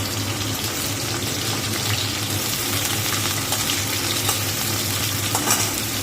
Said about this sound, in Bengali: এবার দেখো আলুটা একটু ভেজে নেবো লাল লাল করে